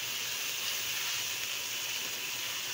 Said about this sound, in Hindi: तो इसमें हम डालेंगे गार्लिक और जिंजर का पेस्ट डाला है हमने, थोड़ा सा इसको हमने फ्राई कर लेना है इसका।